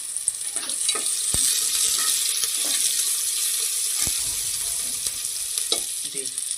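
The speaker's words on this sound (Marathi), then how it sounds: "आता आपण त्यामध्ये कांदा टाकून घेऊया हा एक मध्यम आकाराचा कांदा मी बारीक चॉप करून घेतला आहे त्यामध्ये टाकूया" Finely chopped medium onion dropped into hot oil in a pan for a Puneri mutton rassa, a steady loud hiss of frying with occasional clinks of a spoon stirring, no talking.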